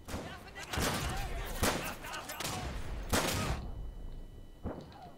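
Gunfire in a World War II shooter video game, with repeated loud bursts of shots in rapid clusters through most of the stretch, easing off near the end.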